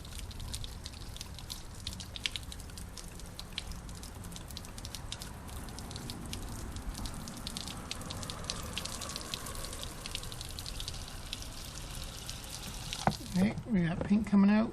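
Water from a travel trailer's outdoor shower sprays and patters steadily on a surface for a long stretch, then stops as a voice begins speaking near the end.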